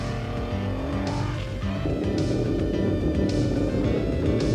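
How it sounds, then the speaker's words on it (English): A 400-plus horsepower rally car at the 1989 Mystery Creek rallysprint, its engine roaring loud and continuous as it accelerates hard out of a corner, the pitch shifting as it pulls away. "the car slingshots out of the corners faster than anything on the Mystery Creek course"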